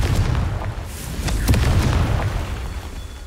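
Spell blast from the Confringo explosive curse in Hogwarts Legacy, a dense booming burst with rumbling low end sustained over a few seconds, loud and alone.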